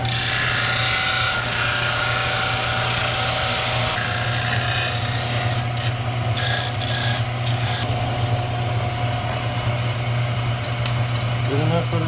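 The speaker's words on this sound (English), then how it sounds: "So I just got to trim it up and kind of fit it. So, and do a little sanding on the edges." Sanding the edges of freshly cut ABS plastic while trimming a part to fit on a drift car build, a steady continuous rasping and rubbing close by, with a constant low hum underneath.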